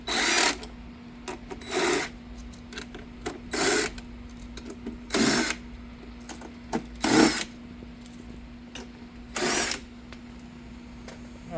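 Power tool unscrewing pre-assembled mounting bolts from a Jeep Gladiator rear fender liner, about eight short whirring bursts spaced a second or two apart over a steady low hum.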